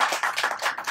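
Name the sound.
audience applause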